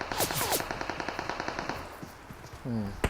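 Rapid machine gun fire in a video game, quick bursts of closely spaced shots, with a voice briefly heard in the middle of the fire.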